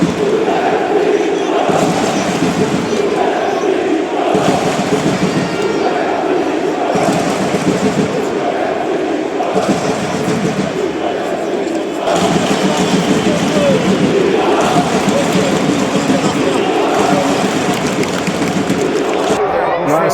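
A small group of Cluj football fans chants loudly in a stadium at the Romanian Super Cup, a dense, rhythmic roar of voices rising and falling in waves through the whole stretch, with thumping beats under it.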